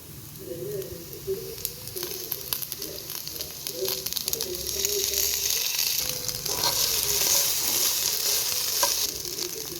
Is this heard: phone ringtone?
no